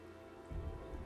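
Heavy rain in the Batman Arkham Knight city ambience, a dense steady hiss of downpour that thickens and grows louder halfway through, with no voices.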